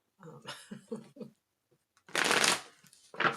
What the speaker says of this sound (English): So let's give it a couple more real shuffles